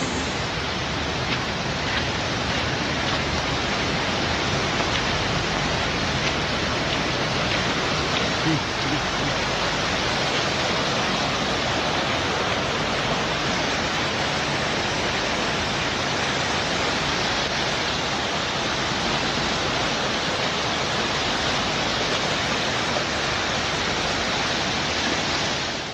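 After heavy rain, floodwater rushes down over a road that is now closed in Premnagar. It makes a constant, dense, close roar of churning water that holds at the same level for the whole stretch.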